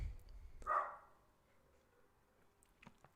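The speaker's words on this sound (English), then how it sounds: "He's in the garden barking away." A pet dachshund barks once out in a garden, a single fairly clear bark followed by a faint yip near the end, with quiet room tone between.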